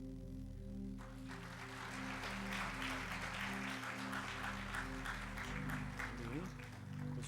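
A church congregation gives sustained applause at a retirement and ordination thanksgiving service. Held musical tones ring underneath, and a voice is faintly present.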